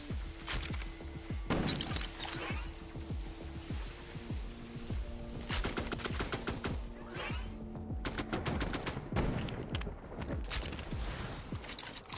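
AK rifle fire in the video game Dark Light Survivors, bursts of rapid automatic shots in several volleys with echoing tails and some crashing impacts, loud and close with no speech.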